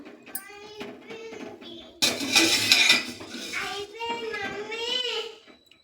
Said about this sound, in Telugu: నీళ్ళలో వేసి ఇలాంటి జాలిగంటతోటి కొద్దిసేపు ఇట్లాంచి కొంచెం మెత్తగానే ఇట్లా తీసేసుకోవాలి